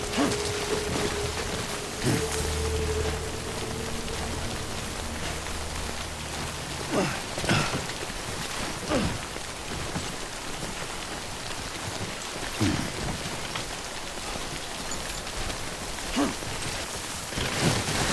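Steady rain hiss of timefall in Death Stranding, a continuous wash of falling water with occasional brief thuds and rumbles layered in, with no voices.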